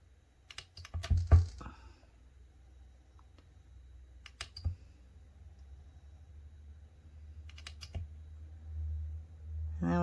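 A knife slices a polymer clay kaleidoscope cane, made from old canes, into strips: a few sharp clicking cuts come close up in a quick cluster, then single cuts follow after pauses, over a steady low hum.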